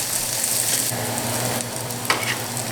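Onion frying in a pan for an omelette, a dense, steady hiss of sizzling oil that holds close and loud throughout, with no voices.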